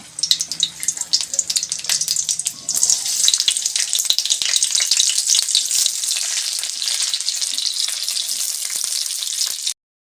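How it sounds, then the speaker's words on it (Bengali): Cauliflower florets hit hot oil and ghee in a wok and sizzle loudly, a bright crackling hiss that swells after an initial clatter, holds steady close up, then stops abruptly. "প্রথমে ফুলকপিগুলো ভাজার জন্য দিয়ে দেব।"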